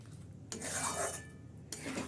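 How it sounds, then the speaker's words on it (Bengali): Yogurt being stirred continuously into chicken in a pan for doi chicken, giving soft scraping, rubbing strokes in two bursts with a quieter pause between, close and fairly faint, with no voices. "দিয়ে এটাকে আমি ভালো করে একটু কন্টিনিউয়াস নেড়ে যাব এটাকে যাতে দইটা কেটে না যায়"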